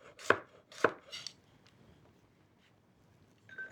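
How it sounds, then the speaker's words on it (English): A knife thinly slices garlic on a cutting board for Italian tomato sauce, giving three close, crisp chops in quick succession and then a faint tap or two. "I'm thinly slicing the garlic because, again, I want everything in the sauce to cook really quickly."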